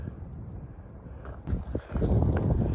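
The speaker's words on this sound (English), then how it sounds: "That wind's pushing up through here." Wind blows along the Appalachian Trail between Newfound Gap and Clingmans Dome, a steady low rumble that buffets the microphone and strengthens into heavier gusts in the second half.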